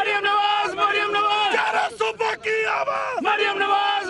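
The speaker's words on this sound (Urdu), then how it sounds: "مریم نواز کی آمد پر متوالوں نے نعرے بھی لگائے۔" Supporters of PML-N shout slogans as Maryam Nawaz arrives in Lahore, a loud crowd of voices yelling and chanting together in rising bursts, close and sustained.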